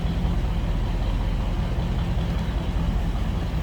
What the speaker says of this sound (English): deep throaty exhaust note.